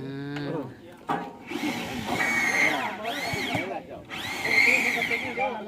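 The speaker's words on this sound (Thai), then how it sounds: "กำลังเจาะ" Drilling at a bridge site, with rising and falling whines of a power drill in bursts under loud nearby talk, preceded by a short clatter.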